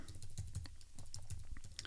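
Fingers type on a reMarkable 2 Type Folio keyboard, giving a quick run of soft, close key clicks in an uneven rhythm, faint and alone with no talk.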